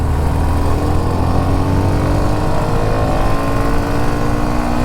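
A Hero Xtreme 125R motorcycle engine held at full throttle, a steady, loud, droning roar that climbs slowly in pitch as the bike gathers speed, with no voices.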